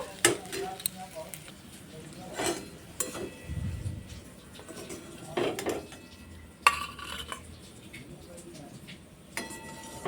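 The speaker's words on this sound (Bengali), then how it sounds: "আলুর পুরটা একটা পাত্রের মধ্যে উঠিয়ে ঠান্ডা করতে রেখে দেব" A spoon scrapes and clinks as cooked, mashed potato filling is scooped from a pan into a bowl to cool, with scattered metallic knocks and soft scraping, close and fairly quiet.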